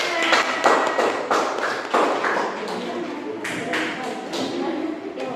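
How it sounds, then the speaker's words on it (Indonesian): Classroom applause as pupils clap their hands together, a run of sharp, closely spaced claps that swell and fade over several seconds, fairly near and loud. "Kasih tepuk tangan."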